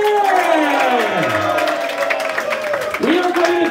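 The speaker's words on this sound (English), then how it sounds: "Give another round of applause for the next mayor of New York City" A crowd at a campaign office opening for a New York City mayoral candidate claps and cheers, with voices and whoops rising and falling over loud, steady applause.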